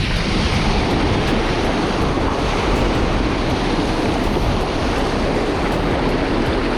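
Ocean waves breaking on a sandy beach during land-based shark fishing, a constant loud roar of surf with wind buffeting the microphone, no voices heard.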